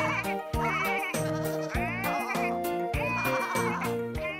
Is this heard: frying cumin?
no